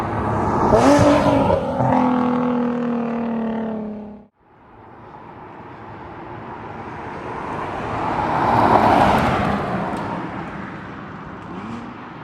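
A Nissan 370Z with the stock exhaust and high-flow catalytic converters runs close by, a steady engine drone that cuts out briefly, then returns with a swelling rev and a rising whoosh.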